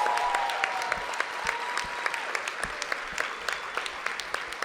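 Audience applause at an awards breakfast: a steady wash of many hands clapping, with a few sharper individual claps standing out, sustained at moderate distance throughout with no speech over it.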